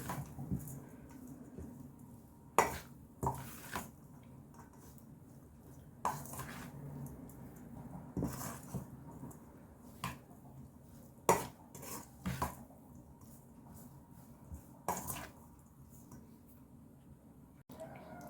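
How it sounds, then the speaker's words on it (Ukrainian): A spoon stirring a cabbage pie filling seasoned with salt and ground black pepper in a bowl, with intermittent clinks and scrapes against the dish over a quiet, steady background. "і гарно все перемішаю"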